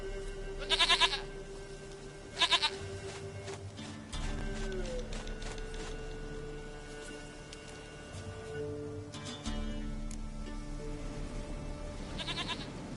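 A goat in The Witcher 3 video game bleats in two short, loud, wavering bursts at the start and one more near the end, over steady game music and ambience.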